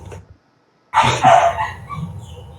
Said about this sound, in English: excuse my dog, he really doesn't want to go to sleep right now